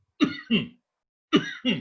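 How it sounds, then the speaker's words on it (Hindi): Four forceful coughs, two quick pairs separated by a short pause, close and clear with silence between them. "खांसी करिए एक बार, खांसी करिए आप।"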